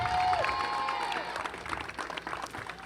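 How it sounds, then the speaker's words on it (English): A softball crowd applauds a player at a ULV versus Chapman game, scattered clapping and cheering that starts fuller and thins out, heard from a moderate distance with a brief tonal whine early on. "Ladies and gentlemen, have a round of applause for Bella Ramirez."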